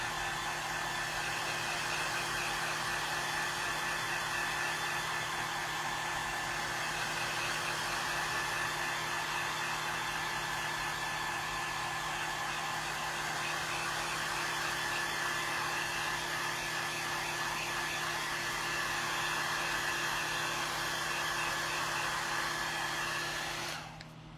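A hair dryer runs steadily, drying paint on a mixed media craft pumpkin, a constant whooshing blow with a faint tonal hum that holds for the whole stretch and cuts off at the end.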